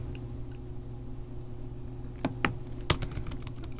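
Chromebook keyboard keys are tapped in a short, quick burst of close clicks over a steady low electrical hum, following a quiet stretch.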